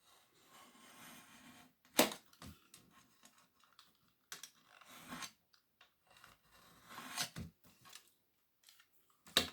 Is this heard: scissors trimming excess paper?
yes